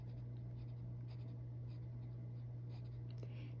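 Colored pencil strokes scratch softly and steadily across paper, quiet and close, over a low steady hum.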